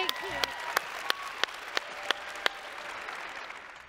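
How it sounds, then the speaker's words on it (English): Audience at a network marketing sales training seminar gives sustained applause, a dense crowd clapping with a few sharp, evenly spaced loud claps standing out near the front, tapering off gradually. "Give Hillary a big round of applause,"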